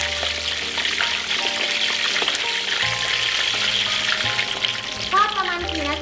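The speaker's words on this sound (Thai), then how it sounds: "ทอดให้หนังกรอบฟูเลยนะครับ" Pork belly with the skin on frying in hot pork lard until the skin puffs and crisps, giving a loud, dense, continuous sizzle and crackle that lasts the whole time.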